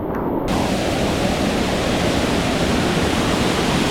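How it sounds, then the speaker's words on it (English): Loud, steady roar of a massive rushing river in Jaco, Costa Rica, heard from above, a dense broadband rush that continues unbroken and close by throughout. "Just going over this massive river. Wow. Look at this thing, it's pumping."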